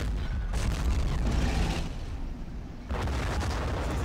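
Heavy 203 mm artillery fires in the Men of War war game. Deep sustained booms and rumbling blasts roll loud and continuous, with a dip in the middle before another roaring burst, and no talking.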